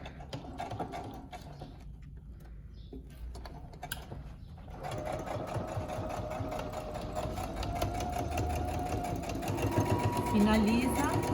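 A sewing machine stitches fabric for a home-sewn fabric cachepô. A few quiet clicks give way to a loud, steady close-up mechanical whir that runs to the end. Someone speaks over it.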